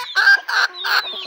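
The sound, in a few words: chickens clucking while being fed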